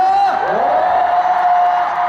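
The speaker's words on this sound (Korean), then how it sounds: "저희 스태프분들에게 박수 쳐주세요!" A loud concert audience at a concert in Seoul cheers and screams with a sustained high-pitched wail. The roar is close and continuous for about two seconds.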